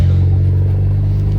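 A BMW 335is with the N54 engine and OEM M Performance exhaust idles loudly and close, a steady deep rumble with a constant low drone and no revving.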